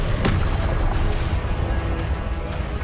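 Confringo spell blast bursting in Hogwarts Legacy combat, a loud booming crash with several sharp impacts layered over continuous rumbling battle noise.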